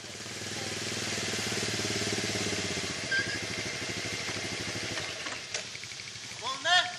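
A small motorcycle engine idles with a steady low rumble and rattle, close by, while people talk over it; a few brief throttle blips near the end.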